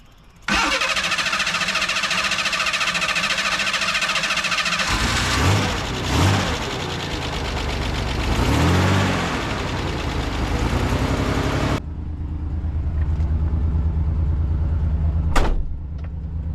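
A Ford Bronco II engine cranks loudly for several seconds, catches and fires up, then settles into a steady, close idle with a brief sharp clank near the end.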